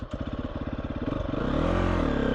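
An off-road motorcycle's electric starter cranks in a fast, even rhythm of mechanical pulses, close and loud, then blends into a steadier engine drone toward the end.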